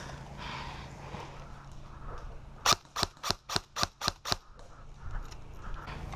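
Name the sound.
airsoft gun shots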